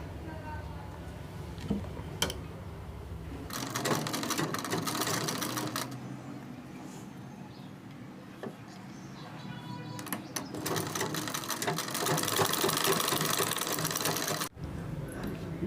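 A sewing machine stitches sleeve pieces together in two bursts of rapid, close mechanical clatter, with a quieter pause of handling noise between them and a sharp stop near the end.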